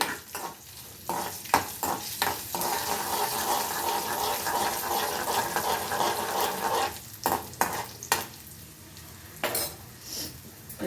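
Mustard seeds, urad dal, chana dal and dried red chillies frying in hot oil in a kadai, a steady close sizzle broken by sharp clinks and scrapes of a stirring spoon against the pan, with no talking.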